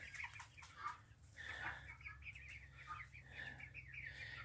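Chickens and a rooster cluck and murmur together, quiet and somewhat distant, with a low steady hum in the background.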